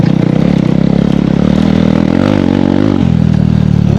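A KTM Duke 390 motorcycle's engine drones loudly and continuously while riding, a throbbing note that holds steady, then drops slightly in pitch near the end.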